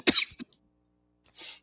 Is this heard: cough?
yes